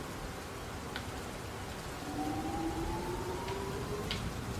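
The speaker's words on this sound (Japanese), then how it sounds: "ちょっと雨の音が切ない感じもしますが、" Steady rain from the puzzle video game Flood of Light, a continuous broadband patter with a faint rising tonal drone and a few soft chime-like accents, no talk.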